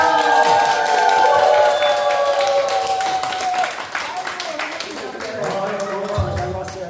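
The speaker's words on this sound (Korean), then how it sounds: "박수 좀 부탁드리겠습니다" An audience claps and cheers in a loud, dense burst of applause, with voices and music mixed in underneath.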